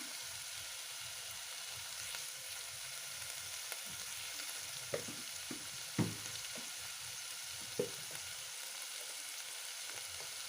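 Ginger garlic paste frying in a pan, a steady broadband sizzle running through the clip, with a few soft utensil taps and scrapes; no voices.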